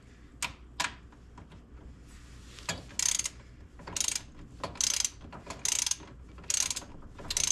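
A ratchet with a 17 mm socket tightens a bolt on a Honda FourTrax Foreman Rubicon 4x4 ATV: several short, close bursts of clicking come in an irregular rhythm, separated by quieter handling sounds, with no talking.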